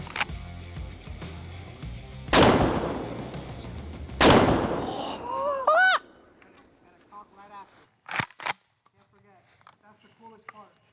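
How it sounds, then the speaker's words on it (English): A 12 gauge shotgun is fired outdoors at a Timbren SES suspension kit on a Tundra. Two loud, sharp blasts come a couple of seconds apart, each trailing off. Afterward come quieter clatter and voices. "Even after firing a 12 gauge shotgun at it, this thing's still holding strong."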